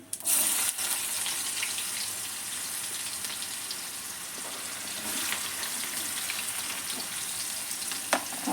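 Chopped onion sautéing in hot oil seasoned with asafoetida for a Gujarati papad curry, giving a steady close sizzle throughout with a few soft clinks and scrapes, no talking.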